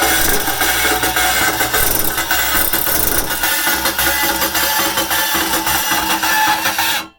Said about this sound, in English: This is my cordless bandsaw.